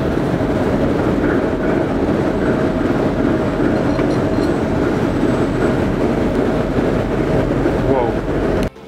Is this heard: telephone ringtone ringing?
no